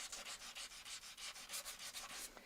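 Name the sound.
sanding wooden heart edges with fine-grit sandpaper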